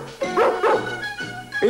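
Dogs in the Arabic-dubbed animated 101 Dalmatians give a few quick, close, loud barks and yips in a short burst.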